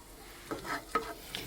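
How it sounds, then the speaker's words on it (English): Something sautés in an iron skillet, with soft scraping stirs at a slow, uneven rhythm over a faint background sizzle, quiet and close. "We're just going to saute it till it's wilted a little bit."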